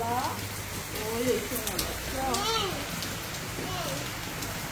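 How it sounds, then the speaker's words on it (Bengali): Heavy rain pours steadily outdoors, a constant hiss of drops on surfaces heard beneath a person talking nearby. "এটা দেখো কেমন ঝমঝম করে বৃষ্টি হচ্ছে।"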